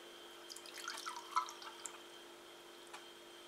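Liquid poured out onto a kitchen scale while making homemade butter gives a faint, close trickle of drips and splashes over a quiet room hum.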